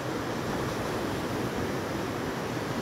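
Strong surf on the Pacific coast near Corinto, Nicaragua, roars as a steady, dense wash of breaking waves close by, with constant wind noise and no voices.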